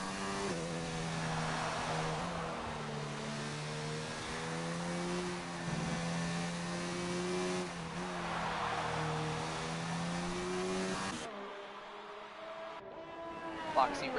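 F1 race car engines in a Formula 1 video game league race at the Japanese Grand Prix: a sustained high-pitched engine whine with shifting tones, commentators talking over it, before cutting out near the end.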